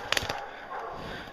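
Bear hunting hounds barking at dawn, a few sharp barks close together near the start followed by steady outdoor background noise.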